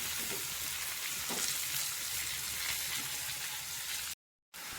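Mudakathan keerai leaves sauté in a hot pan with a steady, close sizzle and light frying crackle throughout, broken by a brief silent gap near the end.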